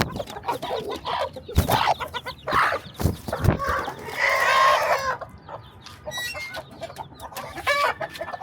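A mother hen with her chicks clucks and calls in short bursts close by, with some louder squawks and a rooster-like cry mixed in, no speech over it.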